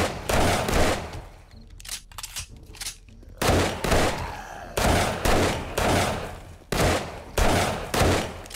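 Repeated loud bursts of automatic gunfire in the video game 7 Days to Die Alpha 21, several sustained volleys with brief pauses between them, close and dominant with no talking.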